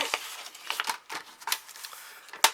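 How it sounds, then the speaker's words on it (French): Scissors cut through scrapbook paper in a series of close, crisp snips at an uneven pace, ending with one sharper cut. "Et maintenant, on va découper 2 morceaux"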